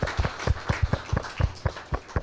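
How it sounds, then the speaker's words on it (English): Scattered audience applause for the designer of a book's cover at a book launch, irregular hand claps close by, fairly sparse and brief. "let's give it a hand of applause, please"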